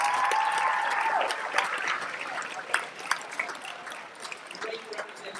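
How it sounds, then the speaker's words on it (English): Students and staff at a secondary school assembly clap in a moderate round of applause that tapers off over several seconds, with a few sharper claps near the end. "Big round of applause."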